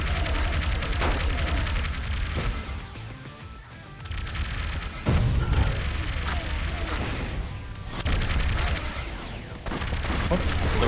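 Spear gun firing in the sci-fi shooter Rogue Robots, loud bursts of rapid mechanical shots and impacts with brief lulls between volleys, over dense game noise.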